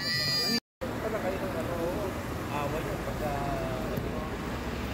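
Goats bleat at Baluarte in Vigan, Ilocos, a few wavering calls sounding over a continuous hum of outdoor background noise, with people talking nearby.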